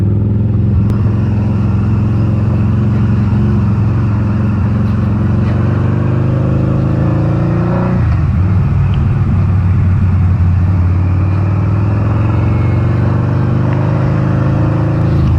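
A 2012 Harley-Davidson V-Rod Muscle 10th Anniversary motorcycle rumbles steadily while being ridden, its engine loud and close with a deep continuous drone and a brief dip in pitch partway through, no voices.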